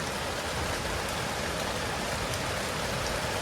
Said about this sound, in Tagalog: Pero medyo malakas pa naman yung ulan, oh.